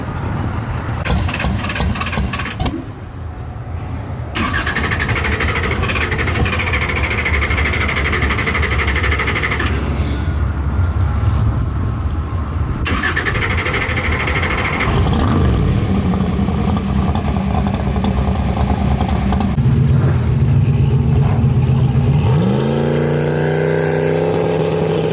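Turbocharged Trans Am drag car with a stock-truck 6.0 block, making a test pass at a no-prep drag event: a loud, sustained engine roar that drops out briefly, returns and rises in pitch as it accelerates.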